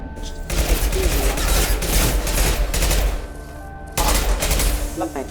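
Sustained bursts of gunfire from the video game Mass Effect 2 form a dense, loud barrage. It breaks off briefly near the end and then resumes, with faint game voices underneath.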